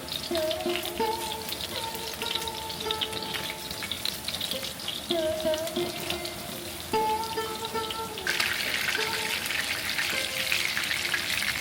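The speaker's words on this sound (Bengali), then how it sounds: "ওদিকে চলছে মাছ ভাজা মানে সোয়াই বা বাসা মাছ ভাজা চলছে" Basa (swai) fish fillets, marinated with egg, fry in hot oil with a steady crackling sizzle, close and continuous, while faint tonal music runs underneath.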